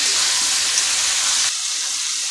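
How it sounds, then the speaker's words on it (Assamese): Potatoes frying in a pan of cooked masala for an Assamese fish curry, giving a steady close sizzle and hiss that drops a little quieter partway through, with no talking. "আলু দি কিনে ভালদৰে আকৌ ভাজি লম"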